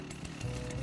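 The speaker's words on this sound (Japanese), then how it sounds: "チェーンソー。" In the video game Rust, a chainsaw idles briefly with a rough, buzzing drone that is fairly faint and steady, lasting under a second.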